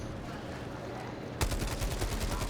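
Rapid machine gun fire in the video game Helldivers 2 bursts in abruptly after a quiet stretch of ambient noise, loud, close and sustained to the end.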